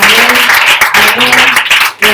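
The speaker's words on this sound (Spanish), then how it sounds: "Denle un fuerte aplauso a Dios." A church congregation applauds in a loud, steady wash of clapping, dense and close, with a brief dip near the end before the clapping picks up again.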